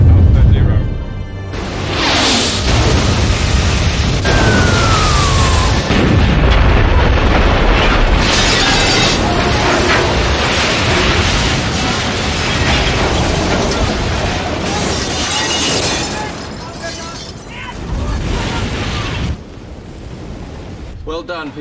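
Naval gunfire and explosions from a battle scene in the 1997 film Tomorrow Never Dies, with loud booms and blasts sustained over a dense, rumbling mix, with shouted commands and speech throughout.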